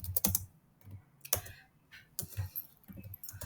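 Someone types code on a computer keyboard, irregular bursts of crisp clicking keystrokes separated by short pauses, close and fairly quiet with no talk.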